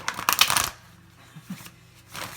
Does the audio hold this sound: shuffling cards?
yes